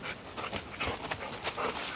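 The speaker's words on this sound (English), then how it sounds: "Hey, no barking, no barking." A dog pants in quick, breathy bursts with a faint whine mixed in, close by inside a hot tent during a car-camping trip, with no talking over it.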